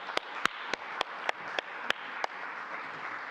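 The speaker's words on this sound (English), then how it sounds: "Let's give these people a round of hearty applause" Applause for volunteers at a church service: a soft wash of clapping from the congregation, with a single sharper clap standing out at a steady rhythm, moderately faint throughout.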